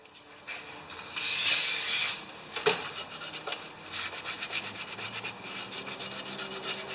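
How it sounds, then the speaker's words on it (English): A wire brush scrubs a Honda HR194 mower blade clutch part in repeated rough strokes, harsh rasping bursts that come close and loud, with a sharp knock partway through. "I'll get a wire brush on that."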